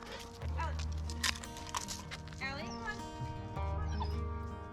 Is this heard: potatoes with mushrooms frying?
no